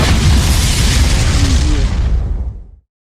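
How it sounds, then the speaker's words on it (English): Fourth of July fireworks explode in a loud booming burst, a heavy rumbling blast with crackling spread that holds for a couple of seconds and then cuts off abruptly. "Are those fireworks?"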